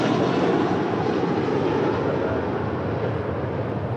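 Airbus jet airliner departing LAX, a loud sustained broadband engine roar that holds steady and close throughout, with no talk over it.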